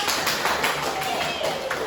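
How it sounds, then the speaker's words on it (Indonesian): Classroom clapping for a student's answer, a brief steady patter of hands with scattered separate claps throughout, moderately loud and with no talk over it. "Tepuk tangan, Kak."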